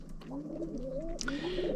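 Pigeons, including Italian and German owl breeds, coo softly in a winter pigeon loft, with several low, rolling coos overlapping in a quiet, close indoor space.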